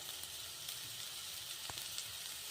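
Onions fry in a pan toward golden brown for a cucumber palya, a faint, steady sizzle with an occasional light clink of stirring.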